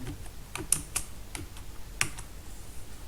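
Someone types text into an Excel cell on a computer keyboard, a quick run of distinct key clicks at an uneven pace, close and fairly quiet, with no voice.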